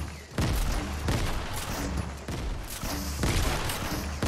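Rapid gunfire from Fortnite weapons, including a Desert Eagle pistol, rattles in dense, loud bursts with short gaps, close and continuous across the whole stretch, no voices.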